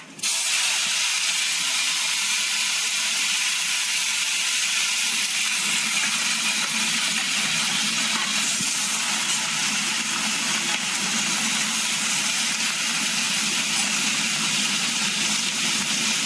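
Leaves hit hot mustard oil with dried chillies and mustard seeds, a sudden loud sizzle that settles into a steady, close, continuous frying hiss with no talking.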